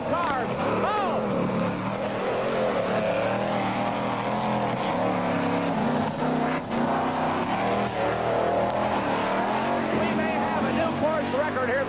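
A 1989 Ford Bigfoot monster truck at a mud racing event in Bloomsburg, PA, loud and continuous as it drives over a row of cars, engine roaring throughout with a commentator talking over it.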